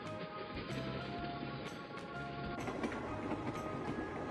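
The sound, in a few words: train running on tracks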